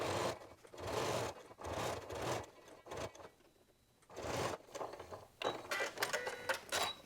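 A sewing machine top-stitches around a fabric loop garland in several short bursts of fast mechanical whirring, separated by brief pauses and a quieter stretch in the middle.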